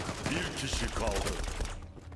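Gunfire in the online shooter Zula, a dense burst of rapid shots and clatter filling a couple of seconds while a player talks over it.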